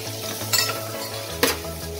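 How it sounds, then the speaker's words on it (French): Salt and spices tipped into a sizzling pot while cooking berkoukes, with a steady frying hiss and two brief bright pours or clinks against the pot, close and fairly quiet. "Vous prenez le tout et vous le versez dans votre marmite."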